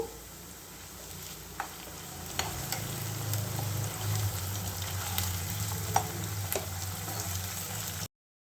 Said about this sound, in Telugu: ఉల్లిపాయలు కొంచెం వేగాలండి ఇప్పుడు దీంట్లోకి టూ స్పూన్స్ అల్లం వెల్లుల్లి పేస్ట్ వేద్దాము